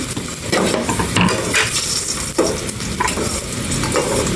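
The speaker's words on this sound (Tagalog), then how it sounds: "gigisa ko na po itong bawang" Garlic sautéing in a pan at home, a steady close sizzle with a spatula stirring and scraping against the metal throughout, loud and continuous, with no voices.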